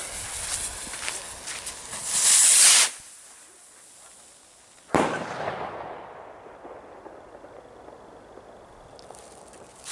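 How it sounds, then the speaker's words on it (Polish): A firework rocket from a Slovak fireworks set whooshes up with a hissing roar, falls silent briefly, then bursts with a sharp bang that crackles and fades outdoors. "na finał tego strzelania mamy rakietę z zestawu od komety"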